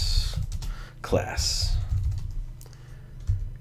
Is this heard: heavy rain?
no